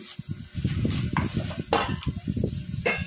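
Banana cake batter mixed by hand in a mixing bowl with a wire whisk, heard as close, quick, rhythmic scraping and light metallic clinking that continues steadily throughout.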